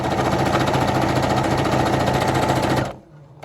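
A sewing machine stitches a T-shirt, a fast continuous mechanical chatter close by that runs evenly for nearly three seconds and then stops abruptly.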